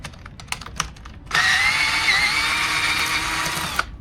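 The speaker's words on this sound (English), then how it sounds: "Grab your handy dandy electric drill with a bit on it." An electric cordless drill with a bit backs out a brake caliper bolt on a Ducati motorcycle, whirring steadily for a few seconds at close range after some light clicks and taps of handling.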